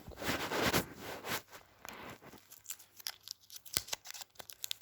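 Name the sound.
opening Olips soft mints candy packet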